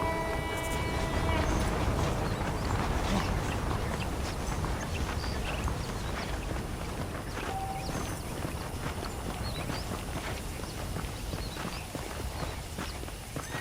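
Horse hooves clip-clop at a walking pace in Red Dead Redemption, a steady close rhythm of footfalls under a busy outdoor ambience with some faint voice.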